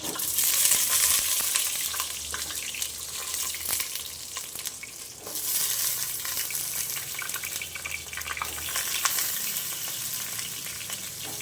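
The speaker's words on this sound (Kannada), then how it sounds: "ಈಗ ನೋಡಿ ಬದನೆಕಾಯಿ ಎಣ್ಣೆಲಿ ಹಾಕ್ತಾಯಿದ್ದಾರೆ" Brinjal (eggplant) pieces frying in hot oil over a high flame for a brinjal gravy, a steady close, loud sizzle with bubbling crackle that surges midway, with no voices.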